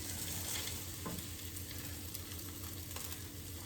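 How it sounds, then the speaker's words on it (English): Homemade healthy pizzas sizzle steadily in a hot skillet as they are taken out, a constant close frying hiss with faint scraping and a few soft clicks, and no talking. "Start taking these out of the skillet"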